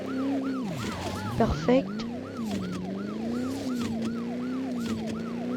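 A police car siren in a racing video game wails in a steady, repeating up-and-down cycle over engine drone, loud and close, with a brief spoken word partway through.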